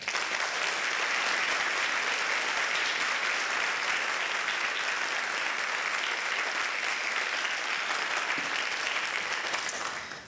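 Sustained applause from a large convocation audience at Drexel's 2024 ceremony, welcoming a speaker, fills the hall as a dense, even wash of clapping that holds steady for about ten seconds before fading.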